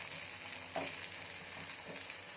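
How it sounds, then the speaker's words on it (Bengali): Dried red chillies frying in hot oil for a Bengali tomato mash, a faint steady sizzle with a couple of brief stirring scrapes, close up and without talk. "শুকনো লঙ্কাগুলো একটু তেলে দিয়ে ভালোভাবে"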